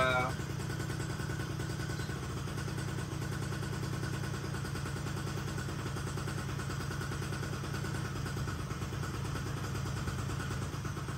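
A Honda Gyro Up scooter engine running just after starting, a steady close idle with an even mechanical putter and clatter that holds through the whole stretch, with no voices over it.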